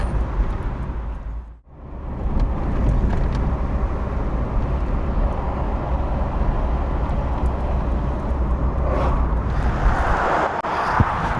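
A Morris car drives along with a constant rumbling engine and road noise, easing down briefly, then carrying on steadily before a softer rustling hiss near the end as it comes to park.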